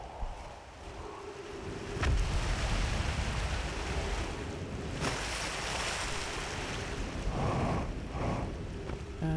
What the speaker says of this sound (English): It's over here, because I can hear water flowing.